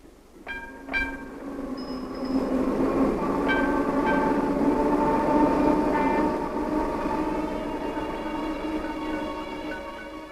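A train rumbles steadily across a Danish road-and-rail bridge in 1956, its low roar building and holding, with a brief high horn-like tone near the start and clanking rail noise throughout.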